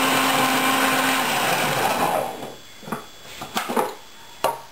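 A food mixer kneads fresh egg pasta dough with a loud steady whirring drone that cuts off midway, followed by a few scattered knocks and scrapes.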